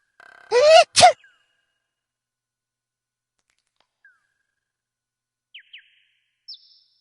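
A single loud sneeze in the King's Quest II remake game, with a sharp gasping intake followed by an explosive burst near the start, then near silence broken by a few faint chirps.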